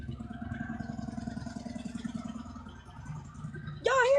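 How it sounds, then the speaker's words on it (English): Motorcycle engine running outside, a steady low mid-pitched rumble with some clatter that holds fairly loud for several seconds before a sharper burst near the end. "It's the motorcycle."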